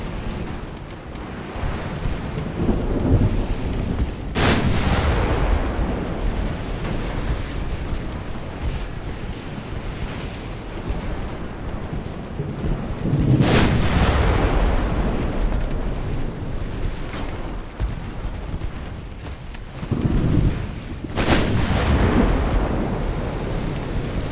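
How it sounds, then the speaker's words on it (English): Warship guns firing in a naval battle in Ultimate Admiral: Dreadnoughts, three heavy booming salvos spaced several seconds apart, each rolling off into a long rumble over steady wind and sea noise. "Shooting again."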